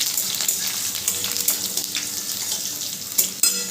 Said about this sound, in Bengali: এবার রসুনটাও দিয়ে দিচ্ছি। রসুনটা দেওয়ার পরে একটু নেড়ে নেব।